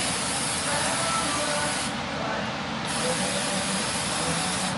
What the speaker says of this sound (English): Spray both sides of the rotor, spray the housing, spray the bearing,